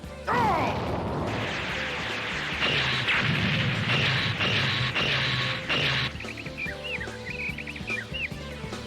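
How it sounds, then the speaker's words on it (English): Dense barrage of anime weapons fire pounding a spaceship's barrier: loud rapid crashes and bursts layered over mechanical whirring and electronic chirps, easing into a quieter warbling, whistling tail with no voices. "The barrier can't protect us from fire this intense for much longer."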